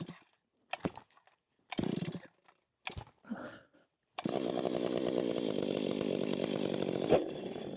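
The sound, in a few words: chainsaw cutting a tree branch for firewood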